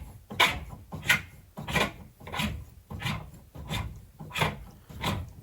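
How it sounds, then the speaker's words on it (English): A tap reseating tool grinds the valve seat inside a tap body in eight close, rhythmic rasping strokes, each a short gritty scrape with brief gaps between. "So put the grinding bit in, screw the thread into the tap body"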